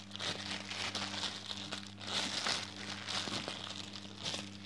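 Pokemon card packs crinkle as they are handled, soft plastic-foil rustling in short repeated bursts, close and quiet with no talk.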